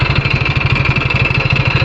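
A Mahindra 605 S tractor engine runs steadily close by, a loud, even diesel throb with a fast regular pulse and a constant mechanical hum, and no voices.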